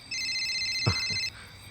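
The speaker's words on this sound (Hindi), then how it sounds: "अरे भैया का फोन आ रहा है।" A single electronic phone ring tone plays for about a second, steady and high-pitched, with a soft thump partway through.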